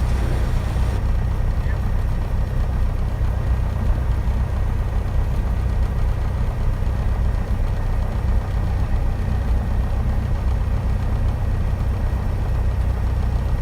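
Cessna 172 engine roaring steadily during takeoff run into the wind, loud continuous droning hum heard from inside the cabin, unbroken throughout.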